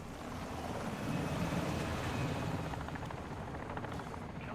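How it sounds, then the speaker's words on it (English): A helicopter in Modern Warfare 2 gives a steady, loud whooshing rotor roar with faint rhythmic chopping, continuous throughout with no speech. "Dropping out of the helicopter."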